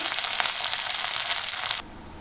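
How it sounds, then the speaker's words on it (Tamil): Onions sauté in a hot pan with a loud, steady sizzle and crackle that cuts off abruptly partway through. "வெங்காயம் நல்லா வதங்கி வரட்டும்"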